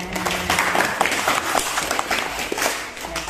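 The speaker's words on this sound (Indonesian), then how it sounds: "Tepuk tangan" Classroom hand clapping during a chemistry lesson, a steady round of applause from a group of students, fairly close and continuous with no talking.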